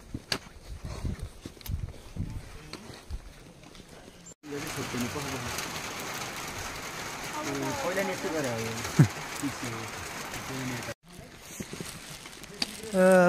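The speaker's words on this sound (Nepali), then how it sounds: "लालीगुराँस भर्खरै मात्र रेनकोट राखेको, फेरि पानी परिसक्यो।" Steady rain hisses down on a mountain trail on the Annapurna Base Camp trek in Nepal, growing heavier midway, with voices talking over it.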